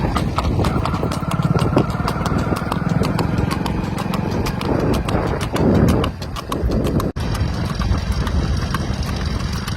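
Horses running on a road toward their farm, hooves clopping in a quick, steady rhythm close by, under a constant rumble of movement and wind.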